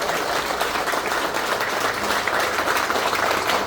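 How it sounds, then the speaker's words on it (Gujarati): A crowd at an outdoor gathering in Umargam, Valsad, marking the founding of a tribal auto-rickshaw union, claps in thunderous continuous applause, dense and even throughout. "એકવાર હાથ ઊંચા કરીને જોરદાર તાળીઓનો ગણગડાટ થઈ જાય"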